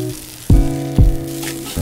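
Boiled grated potato dropped into a hot frying pan, two sharp heavy thuds a half second apart followed by a continuing close sizzle.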